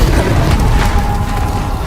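A brief Incendio fire blast in Hogwarts Legacy, one close booming whoosh that fades into a steady rumbling roar.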